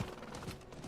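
A horse clip-clops in the video game Diablo IV, a quick run of hoofbeats heard alone for under a second.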